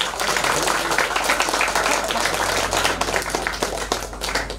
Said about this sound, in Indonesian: Tepuk tangan dulu, jangan terlalu.